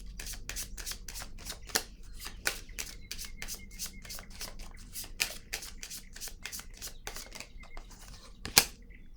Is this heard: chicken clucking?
no